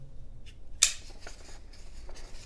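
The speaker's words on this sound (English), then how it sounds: "let's try cutting a couple things with it. Start off just with some copy paper." A budget EDC folding knife, the Fintiso Odyssey, slices through copy paper in a few quick, crisp cuts, with one sharper rasp standing out against a quiet background.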